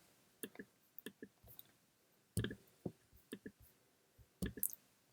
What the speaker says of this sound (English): What we have to do is right click